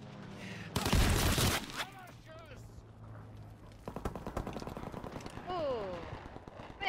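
Gunfire in a WWII video game, a loud burst of rapid shots followed by scattered distant rattling fire, with people talking over it.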